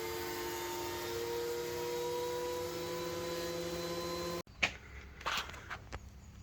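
A dust collector fitted with a 3D printed cyclone separator runs with a steady, droning whine and hiss for several seconds, then cuts off abruptly, leaving a few scattered knocks and handling sounds.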